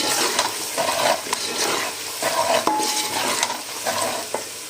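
Red chili and dried coriander frying in a pan for dal makhani, a steady close sizzle with repeated scraping strokes of a spoon stirring through the spices.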